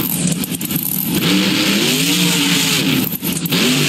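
Gravedigger monster truck in BeamNG Drive, its engine revving loudly and continuously, the pitch rising and falling as it climbs, close and alone with no talking.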